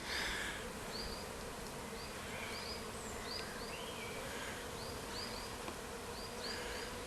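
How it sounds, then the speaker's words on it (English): A soft, continuous hum of many bees buzzing around a hive in bluebell woodland, individual insects droning past now and then over a steady background hiss. "you can hear the buzz of bees"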